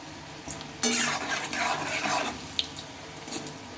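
Long beans fry in a pan while being stirred, with a burst of sizzling and scraping that swells and fades, punctuated by a few sharp clinks of utensil against the pan.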